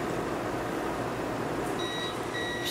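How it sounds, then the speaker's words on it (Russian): A kitchen timer beeps in short high-pitched pulses near the end, faint over a steady hiss of boiling water on the stove while vareniki cook. "Все, таймер сработал."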